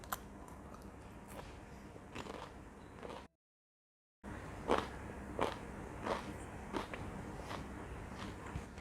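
Crispy Thai spicy fried chicken salad is bitten and chewed up close, with faint crunchy crackles and soft chewing clicks and a short silent gap in the middle.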